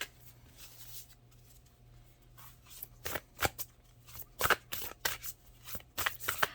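Tarot cards spill and are handled during a reading. A run of sharp, uneven flicks and slaps comes close up against a quiet background.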